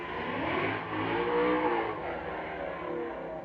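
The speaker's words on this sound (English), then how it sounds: "Oh, we got a race car in the neighborhood." A race car revs somewhere in a residential neighborhood, its engine roaring steadily and swelling slightly over a few seconds with no talking.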